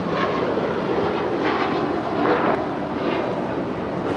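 An airliner takes off from runway 25 right at LAX, heard as a steady, broad jet roar with a faint wind-like rush. The roar holds at a constant loud level throughout, without a clear rise or fade.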